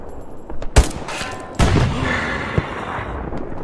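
Video game gunfire in Hell Let Loose: a couple of sharp, loud shots followed by a rolling echo and a fainter later report, with no talking.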